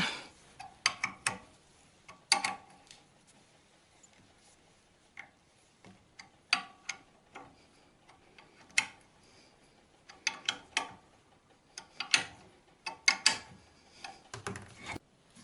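Small screws are tightened on ball joints of model train parts during close bench work, giving scattered faint ticking and clicking taps in irregular bursts with quiet gaps, no speech.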